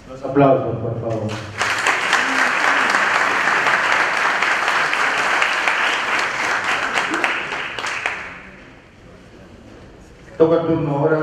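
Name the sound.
audience applause at a seminar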